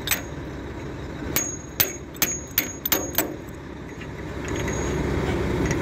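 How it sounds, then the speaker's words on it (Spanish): A wrench strikes a raised metal gate, giving about seven sharp, ringing metallic clanks in an uneven rhythm over a steady low rumble, with the blows close and fairly loud. "Esta compuerta está un poquito más alta, entonces tenemos que golpear por ahí."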